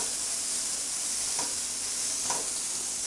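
Chicken stuffing stirred in a hot pan for stuffed paratha, a steady close sizzle with two soft scraping strokes of the spoon, no voices.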